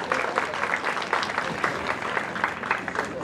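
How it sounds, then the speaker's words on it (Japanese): An outdoor summer festival audience gives a warm round of applause for a soloist of a junior wind band, with steady, moderately close clapping and individual claps standing out across the crowd. "大きな拍手をお願いします。"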